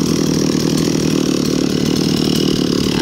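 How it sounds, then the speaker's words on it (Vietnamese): Stihl 024 AV 42cc chainsaw engine running, a loud, steady buzzing drone heard close up with no talk over it. "Rồi, giờ mời cả nhà nghe tiếng máy nổ."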